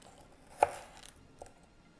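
A knife chops the ends off a big carrot on a cutting board, giving two crisp, close knocks about a second apart in a quiet kitchen.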